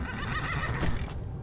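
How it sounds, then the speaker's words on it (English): A wild horse in the game Skyrim lets out a loud, close neigh that rises and falls over about a second, with faint hoof clip-clop underneath and no voices. "And wild horses buck you until tamed."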